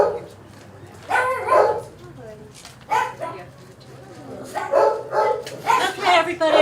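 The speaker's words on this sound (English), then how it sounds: "I think we're going to be talking over barking." Dogs bark in repeated bursts, loud and near, with several overlapping barks and yips, while people talk between and under them.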